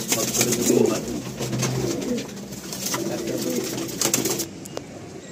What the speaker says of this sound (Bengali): এই যে ডেঞ্জার একটা পায়রা রয়েছে